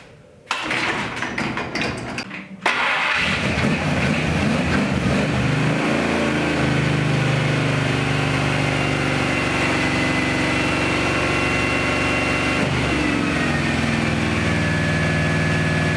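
A car engine with a faulty carburetor that dumps fuel cranks briefly, catches and settles into a loud, steady, slightly uneven idle that continues to the end.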